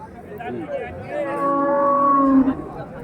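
A cow at a rural cattle market, Ranigonj haat in Ghoraghat, where bony, thin cattle are on sale, lets out one long, drawn-out moo over a low murmur of crowd chatter.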